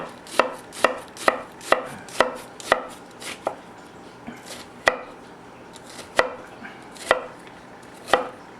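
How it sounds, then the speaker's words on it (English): Knife chopping down through an onion on a cutting board, about a dozen sharp, crisp taps in a loose rhythm, close and clear with no talking. "You're going to come down, but don't cut all the way through the onion"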